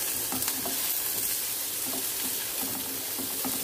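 Pointed gourd (potol) frying with spices in a pan, a steady close sizzle with light stirring clatter and no voices.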